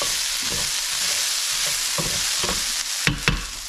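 Onions and garlic fry in a pan with a constant close sizzle, no one talking, broken by repeated scraping stirs and a couple of sharper clanks toward the end.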